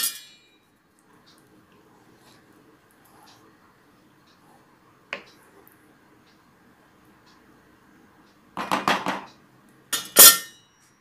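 Raisins and nuts stirred into bamboo rice payasam in a pot: a mostly quiet stretch with a faint hum, then scattered metallic clinks and scrapes, and louder clattering bursts toward the end.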